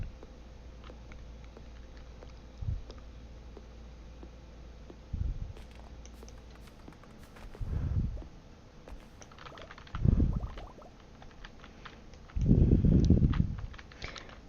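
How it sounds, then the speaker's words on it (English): In Stardew Valley, an axe strikes a tree in a series of dull, evenly spaced thuds a couple of seconds apart, the last ones heavier. Soft keyboard clicking runs steadily underneath. "Let's cut down this tree."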